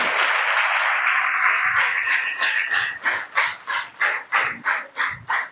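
A large audience at a spoken talk claps loudly in a dense wash of applause that settles into steady, rhythmic clapping in unison, beat after beat, close and full.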